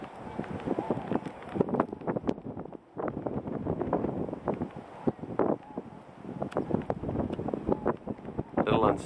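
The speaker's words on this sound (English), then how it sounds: "Unstable, it's pretty windy." Strong, gusty wind buffets the microphone outdoors on a freezing lakeshore where thousands of tundra swans gather, roaring in uneven loud bursts; a person talks briefly through it.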